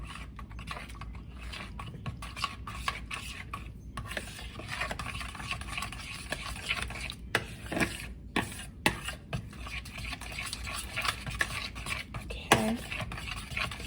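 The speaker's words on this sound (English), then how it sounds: "We're going to go ahead and mix that up a little." Sweet potato cornbread batter is stirred in a bowl with a large fork, making soft continuous scraping and a quick run of light clicks; a voice briefly says a word.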